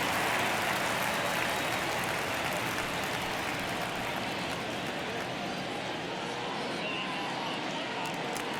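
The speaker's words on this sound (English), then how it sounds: "Crowd locked in right now." Steady crowd roar fills a ballpark in MLB The Show 23 during a one-run ninth inning between the Miami Marlins and Texas Rangers, a dense, continuous wash of cheering with no clear breaks, with a voice heard over it.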